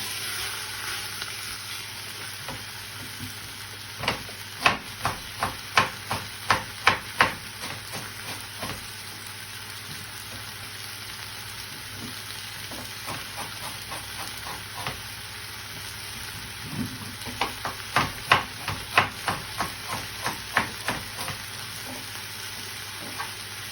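Beef pieces and flour browning in a pan for a beef casserole, a steady sizzle broken by bursts of rapid scraping stirs in two clusters, close and fairly loud with no talking.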